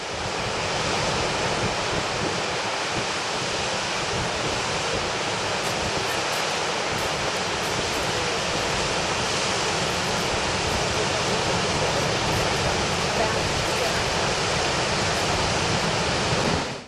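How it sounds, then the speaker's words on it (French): Gullfoss, a two-tiered waterfall in Iceland, roars in a dense, continuous rush of falling water mixed with wind buffeting the microphone, steady and loud throughout. "Gullfoss, la cascade dorée."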